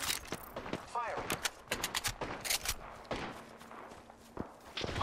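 Gunfire bursts and footsteps in a ranked match of a shooter video game, sharp shots scattered through the clip amid game sounds and a brief voice-like callout.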